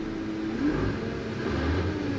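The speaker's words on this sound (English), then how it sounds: "Off-road truck, good to go." An off-road truck engine idles and swells in two brief revs, a steady mid-pitched rumble heard alone at moderate distance.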